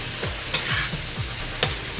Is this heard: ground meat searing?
yes